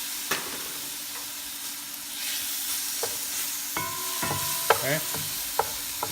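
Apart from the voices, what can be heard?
shrimp frying and sizzling in a pan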